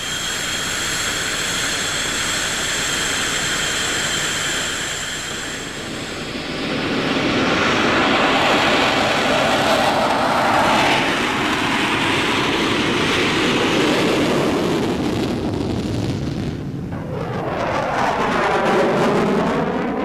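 An RAAF F/A-18 Hornet pre-production jet roars past, its engine noise swelling to a loud peak mid-clip and then fading as it flies away, with a sweeping whine near the end.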